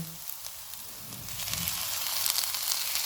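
Onion, ginger and other ingredients for butter chicken sizzle in a pan over medium heat, a steady, fairly quiet crackling hiss that swells slightly toward the end, with no talking.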